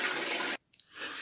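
A shower in a film scene runs as a loud hiss of spraying water that cuts off abruptly, followed by a couple of faint drips before the hiss returns.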